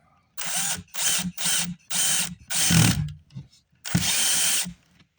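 A power drill drives screws into a cabinet in short, separate bursts, about six close, whirring runs with pauses between, ending on a longer final drive.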